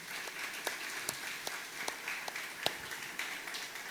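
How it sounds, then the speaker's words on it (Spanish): An audience claps at a church service, a steady crackle of applause with a few sharper individual claps standing out, fairly distant and moderate in level. "Dale palmas a Rey, por favor, apláudele fuerte."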